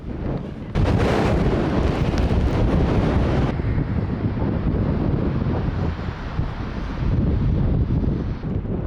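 Strong gusty wind buffets the microphone outdoors in scenic Romanian countryside, a loud continuous low roar that jumps in after a second and rumbles steadily throughout, with no talking.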